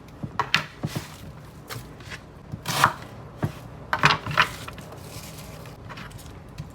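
A knife chopping an onion on a board for spicy goat meat stew: irregular close taps, some in quick clusters, with a few louder cuts and quiet gaps.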